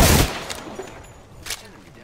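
Sniper fire in the video game Apex Legends: a loud, sharp shot at the start, then a second, fainter report about a second later over dull in-game ambience.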